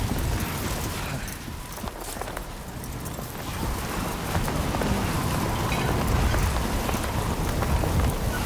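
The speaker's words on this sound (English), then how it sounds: "Gotta avoid these lightning bolts as well." Steady rain with a deep thunder rumble inside the video game Death Stranding 2 during a lightning storm, a dense continuous wash that swells gradually and holds without a break, with no talk over it.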